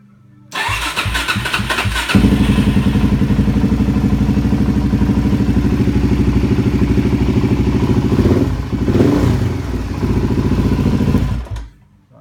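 A Suzuki DR-Z400SM motorcycle engine with a full MRD exhaust cranks and catches, then runs loud and steady at a buzzing idle, with a brief rev before cutting off.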